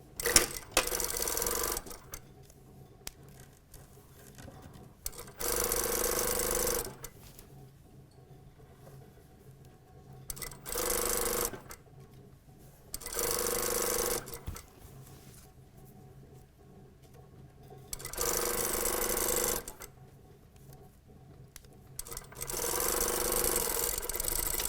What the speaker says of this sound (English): So now we're stitching the other side seam, and I'm starting from the waist again, coming all the way down to the hem.